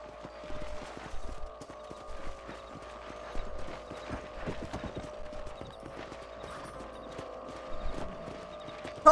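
Horse hooves clip-clop at a steady walking rhythm in the video game Red Dead Redemption, moderately close, with faint mechanical clicks and a steady background hum.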